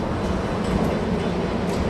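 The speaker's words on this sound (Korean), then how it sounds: "저는 교통카드로도 가능한 일반 열차를 타고 갑니다." Regular commuter train heading to Incheon Airport, a steady low rumble and hum of the carriage running along the rails, continuous and fairly close without any talk.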